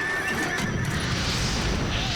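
A horse pulling a carriage in the Parasite Eve video game lets out a loud, sustained neigh with hoof clip-clops beneath it, lasting about two seconds with no talking.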